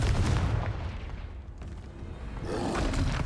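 A Confringo explosion spell goes off in the Hogwarts Legacy video game, a loud, dense booming blast with a roaring rumble that dips briefly mid-clip and then swells again, with no talk over it.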